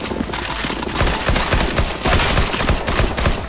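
Rapid gunfire in the video game CS:GO Zombies, dense sustained bursts of shots fired at zombies, loud and continuous throughout with short overlapping volleys.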